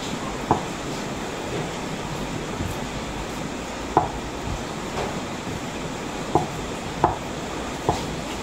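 A knife chops tofu on a cutting board, with sharp, sparse, irregularly spaced cuts over a steady background hiss and no talking.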